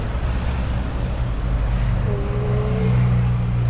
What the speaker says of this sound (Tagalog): At traffic na naman dito.